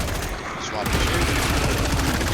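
Heavy automatic gunfire in the Killing Floor 3 video game, a sustained loud burst of rapid shots after a short quieter lead-in, with other game noise underneath.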